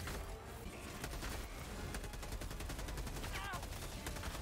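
Rapid gunfire from the video game Helldivers 2, dense bursts of shots crackling continuously and fairly close, with no voices over it.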